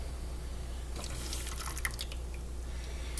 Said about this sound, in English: now I'm going to add the milk cornstarch mixture to it